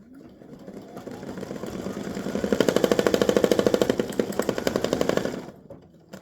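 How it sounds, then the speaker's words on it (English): An embroidery machine stitching through card stock, rising from a soft whir into a fast, loud, even needle rattle before slowing and stopping. "I'm going to hold my thread and let it start stitching."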